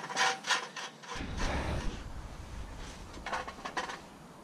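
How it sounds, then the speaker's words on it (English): Car parts being scrubbed with a brush in petrol during a Galaxy rebuild, a steady close bristly scrubbing that follows a few short opening knocks. "we're just going to get the brush and just agitate that round"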